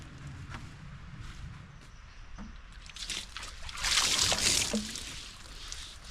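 Rainwater from a bucket is poured over a poplar log outdoors, a faint trickle building into a brief louder splashing rush before tapering off to dribbles.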